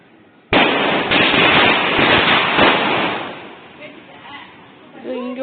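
A 1000 wala string of Diwali firecrackers goes off suddenly, a dense rapid rattle of loud pops lasting a few seconds before thinning out, then voices and chatter follow.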